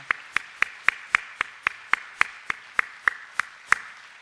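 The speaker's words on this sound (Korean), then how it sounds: "우리 박수로 환영합시다." A church congregation claps to welcome a newly arrived deaconess, heard as about fifteen evenly spaced, crisp claps in a steady rhythm, fairly close and alone with no talk.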